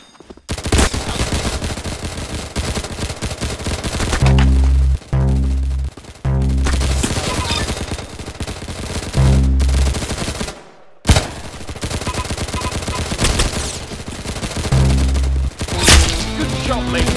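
Rapid bursts of gunfire at shooting practice fire in dense volleys with brief gaps, loud and close, continuing almost without pause throughout.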